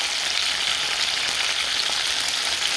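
Potatoes fry in oil inside a covered pan with a dense, even sizzle, like steady rain, loud and close throughout, with no voices.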